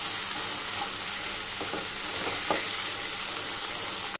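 Coriander paste is stirred into a hot pan for sabudana khichdi, giving a loud, continuous sizzle with a few scraping strokes of the spoon near the middle, close up and without any talking, before an abrupt cut.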